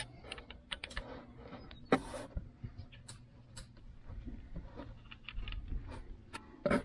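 Scattered small metallic clicks and taps of screws with washers being worked out of an ATV speed sensor housing, irregular and close, over a faint low background hum.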